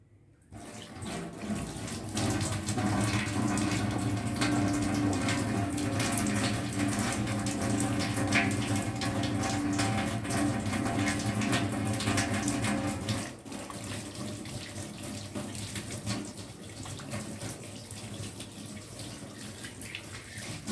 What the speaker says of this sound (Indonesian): Sebelum melakukan tindakan, kita melakukan cuci tangan terlebih dahulu 6 langkah.